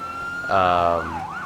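A police car siren in the video game GTA 5 wails and then yelps, rising and falling in loud, steady sweeps over a low engine drone, with no voices.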